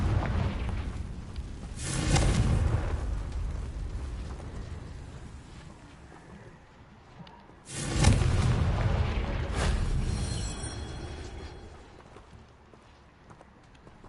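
Two deep, booming blasts from the Confringo spell in a video game, the first near two seconds and the second near eight, each rolling out into a long rumbling decay, with no talking.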